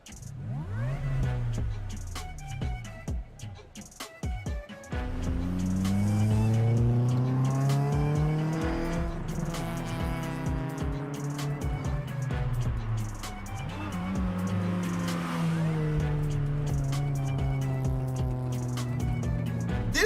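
A race car in a video game revs hard and holds high engine pitches that climb and fall through gear changes, with bursts of tire squeal. It plays loud and steady for the whole stretch, with a brief dip around the start.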